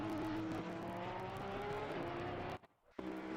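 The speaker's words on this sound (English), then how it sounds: "Let that Ferrari engine scream." A Ferrari GT3 race car at Circuit Zolder accelerates hard out of a hairpin, its engine holding a steady, loud, high-pitched scream. The sound cuts out briefly near the end, then returns at full strength.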